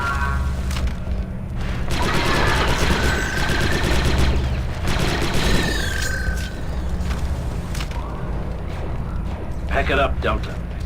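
Sniper rifle fire in the Star Wars Republic Commando video game on Geonosis: sharp, repeated cracks and bursts of blaster fire with booming impacts. Voices talk over the shooting throughout.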